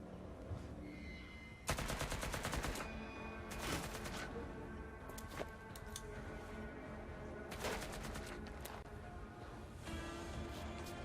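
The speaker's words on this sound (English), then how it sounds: "You're the one firing machine gun rounds at me." Bursts of machine gun fire in the video game Adam Wolfe, several rapid rattling volleys at moderate loudness over a continuous background of game ambience.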